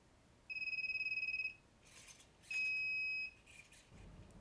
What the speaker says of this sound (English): That beep indicates that the abort criteria was violated